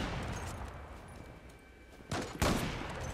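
Gunfire in the online shooter game Zula: a quiet stretch gives way to two sharp, close bursts of shots near the end, the second louder and longer.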